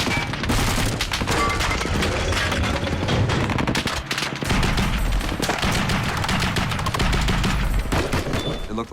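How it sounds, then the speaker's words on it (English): Intense gunfire erupts from several directions during an Iraq war zone engagement, with dense overlapping bursts and booming shots. The firing is loud, close and continuous, and shouting is heard beneath it. "We're getting shot at from both sides."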